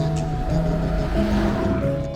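Porsche Cayenne S Coupe with its twin-turbo V8 rumbling steadily and close by, a deep continuous engine drone with a sustained tonal whine, held even throughout with no talk.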